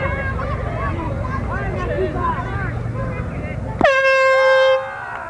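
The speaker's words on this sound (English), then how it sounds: "And Bina Roberts playing with her air horn." An air horn blasts once, loud and sustained for about a second, at a women's softball game, following crowd chatter and voices in the stands.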